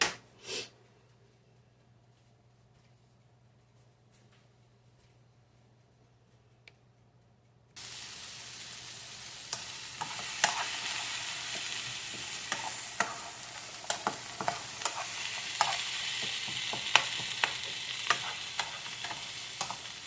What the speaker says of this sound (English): I'm just going to turn this on like a high heat for a few minutes and get everything nice and cooking